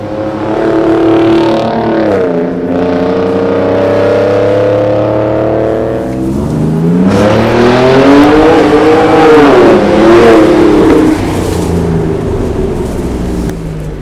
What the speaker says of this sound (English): Our Borla Atak midsection exhaust is installed. It definitely gave our Raptor a very aggressive tone.